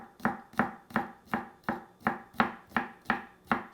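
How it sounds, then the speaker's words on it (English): Knife slicing eight garlic cloves thinly on a cutting board, a steady run of eight evenly spaced crisp chops, close and clear with nothing else heard. "I'm gonna thinly slice 8 cloves of garlic here."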